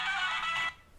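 A mobile phone ringtone chimes briefly and fairly close, a bright electronic tone lasting under a second before cutting off to quiet room noise.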